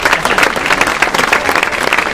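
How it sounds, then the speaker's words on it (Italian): Loud, close, continuous applause from an audience honoring a woman, a thick burst of many hands clapping at once for just over two seconds. "facciamogli un applauso perché è una grande donna"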